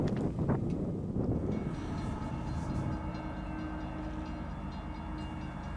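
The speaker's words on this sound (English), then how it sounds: "This is our last train of the day, and it's Q016, another eastbound priority intermodal train." An eastbound priority intermodal freight train passing on a rail subdivision in Deshler, Ohio, a loud rumbling approach with a horn blast at the start, then a steady rolling roar of cars with faint tonal squeal.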